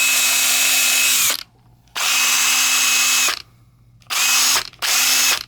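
A Snap-on CT8850 1/2 inch drive cordless impact wrench runs in loud close whirring bursts, four runs of varying length separated by brief silences.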